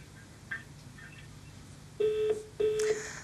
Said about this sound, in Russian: Звоночек, к сожалению, сорвался